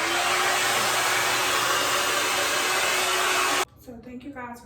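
A Knot Dr. dryer brush blowing hot air, a loud steady whirring hiss with a faint whine that cuts off abruptly near the end, leaving quieter background sounds.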